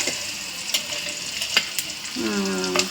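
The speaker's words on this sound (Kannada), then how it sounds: "ಹಸಿಮೆಣ್ಸಿನ್ಕಾಯಿ ಹಾಕ್ಕೊಂಡು ಸ್ವಲ್ಪ ಸಿಮ್ಮಲ್ಲಿ ಇಟ್ಕೊಂಡ್ಬಿಡೋಣ ಫ್ರೈ" Green chillies fry gently in a pan over low heat for a garlic gojju, giving a steady sizzle with occasional sharp stirring clicks before a voice begins speaking near the end.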